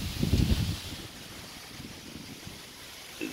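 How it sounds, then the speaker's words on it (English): Wind blows across the microphone in low rumbling gusts, strongest at the start, then settling into a steady soft rush outdoors, high in a deer stand. "and it's windy"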